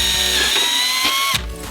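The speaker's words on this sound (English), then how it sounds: "I'm just going to drill a hole right through the toy." A power drill bores a hole through a plastic toy, a close, high whining motor with a shifting pitch and a brief stop before it spins again near the end.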